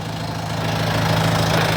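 A 2019 Kubota M7040 tractor engine idles after a restart, giving a steady, even diesel rumble with a low knocking pulse. The sound is close and continuous throughout.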